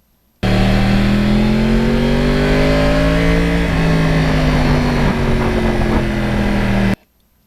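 A 2009 Yamaha R1 crossplane motorcycle engine revs loud and close, its deep uneven growl swelling and easing across one sustained run before cutting off abruptly.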